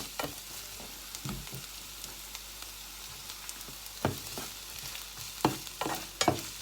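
Shallots and garlic frying in hot oil in a pan for shrimp fried rice: a steady close sizzle punctuated by sharp spatula scrapes and taps, with no voices.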